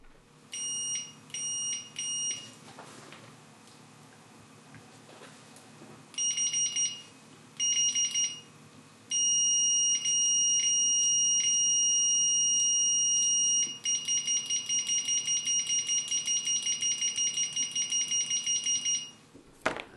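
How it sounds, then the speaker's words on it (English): A Greenlee DM-510A digital multimeter beeps during continuity testing on diodes, first in short separate chirps, then in a long steady tone and rapid repeated beeps, clear and close in a quiet room. "Let's do some continuity testing."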